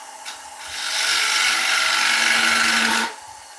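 Wood lathe turning a bowl as a gouge cuts the tenon and foot: a single scraping, hissing cut of about two seconds over a low motor hum, starting and stopping abruptly.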